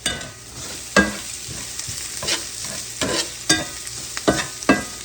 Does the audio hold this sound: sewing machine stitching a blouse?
no